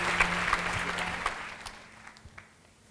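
A church congregation applauds during an Indonesian worship service, a steady wash of clapping that gradually thins and fades over a few seconds.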